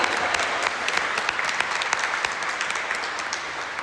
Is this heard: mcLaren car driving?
no